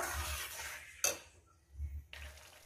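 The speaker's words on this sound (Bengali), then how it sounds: "বন্ধুরা দেখুন আমি কিভাবে কষিয়ে নিচ্ছি।" Spice paste for a fish curry is stirred and sautéed in oil in a pan: soft, close scraping with one sharp metallic clink of the utensil against the pan partway through.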